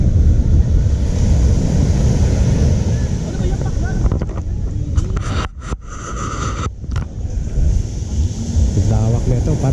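Sea at White Beach Resort in Puerto Galera: a continuous rushing wash of surf with heavy wind buffeting the microphone, loud and close, with a voice speaking over it.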